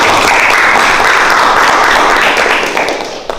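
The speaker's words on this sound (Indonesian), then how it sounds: "beri tepuk tangan sekali lagi untuk pemateri kita hari ini" Audience at an entrepreneurship workshop at a vocational school in Cirebon claps for the speaker, a dense, loud burst of many hands applauding together that holds steady and then tapers off toward the end.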